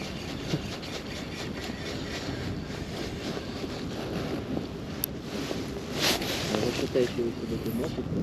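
Wind blowing over open water during boat fishing for zander, a constant broadband buffeting against the microphone, with someone talking intermittently and occasional handling knocks.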